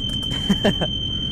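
A steady, high electronic warning tone sounds continuously in a train cab in Train Sim World on the Northeast Corridor near New York, with a voice speaking briefly over it.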